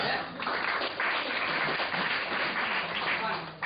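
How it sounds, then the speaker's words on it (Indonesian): Audience applause in a seminar or presentation room, a steady dense wash of many hands clapping for several seconds at moderate level, tapering briefly near the end. "Kasih tepuk tangan untuk teman kita ya."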